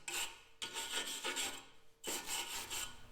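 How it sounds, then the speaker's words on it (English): A dedicated stainless steel wire brush scrubs aluminum clean before welding, giving rhythmic, bright raspy back-and-forth strokes in two close, fairly quiet bursts separated by a short pause. "hit it with a dedicated stainless steel wire brush"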